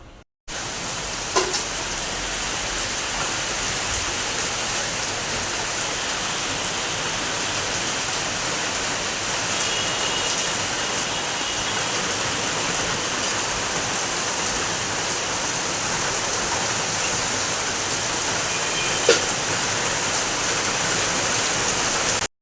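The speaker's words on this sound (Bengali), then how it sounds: "হঠাৎ করে বৃষ্টি নেমে গেল, পুরো ভালোই জোরে হচ্ছে।" Heavy rain pouring down in a sudden downpour, a loud, continuous hiss and roar that stays even throughout, with no voices over it.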